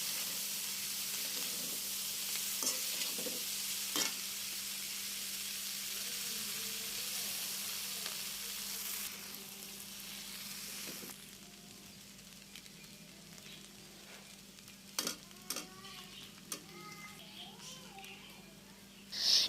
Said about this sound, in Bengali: এবার আমি সিদ্ধ করা চাউমিনটা দিয়ে সব কিছু একসাথে ভালো করে মিশিয়ে নিব।